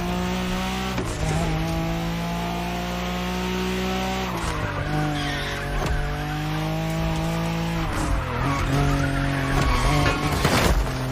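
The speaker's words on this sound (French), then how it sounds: "T'arrives à faire drifter cette grosse carrosserie, c'est juste magique." Car in The Crew Motorfest drifting its heavy body, engine droning loud and close with harmonic sweeps as revs rise and fall, while tires squeal and skid almost continuously.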